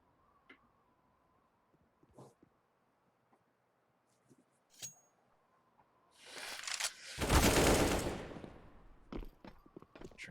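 AUG rifle fire in a competitive shooter match, with a few sparse faint clicks and ticks before a loud, dense burst of shots that trails off into scattered quieter taps.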